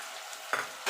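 Coriander leaves stirred into tomato and ginger frying in a pan, a brief soft sizzle with a sharper scrape of the spoon near the end, close and quiet with no voices.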